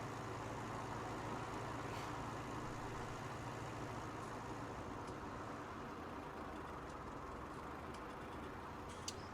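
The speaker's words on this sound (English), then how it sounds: "And this is a pretty tractor." A John Deere tractor engine in a farming game runs on the Kamykowo map, a low, steady, quiet drone that continues evenly throughout with no talking.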